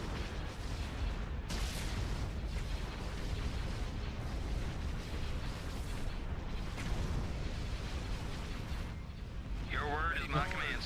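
Starship cannons firing in a Star Wars space battle game, Thrawn's Revenge, with a steady roar of booming blasts and explosions throughout, overlaid with radio-style voices.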